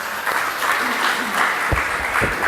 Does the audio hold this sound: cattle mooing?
no